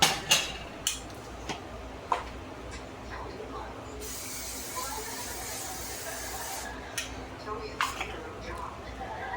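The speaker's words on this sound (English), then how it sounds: "and I'm just gonna spray it in here" Cooking spray hisses into a pan for several seconds between sharp clicks and clatter of handling, with a soft background hum.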